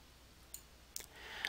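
A few faint, brief computer mouse clicks with quiet pauses between them, heard alone in a silent room.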